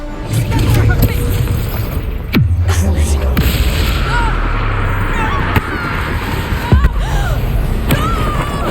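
A Confringo fire spell explodes in Hogwarts Legacy with two heavy, booming blasts about four seconds apart, set over constant rumbling battle ambience with faint voices in the background.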